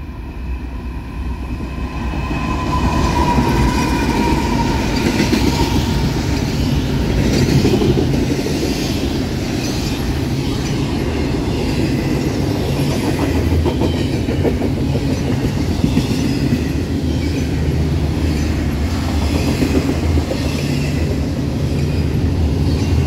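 Westbound freight train 23G rolling past, a loud sustained rumble with rhythmic clickety-clack of wheels over rail joints, close by and continuing throughout.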